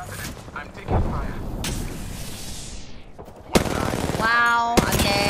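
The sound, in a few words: gunfire in the video game Apex Legends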